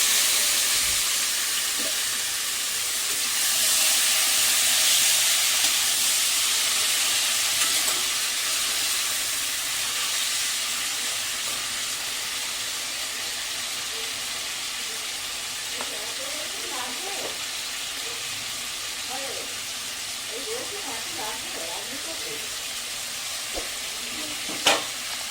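Stalks of elephant foot yam go into hot oil for a vegetarian chhechki, a loud continuous sizzle that slowly settles into steady frying, with occasional utensil clicks and a faint voice now and then.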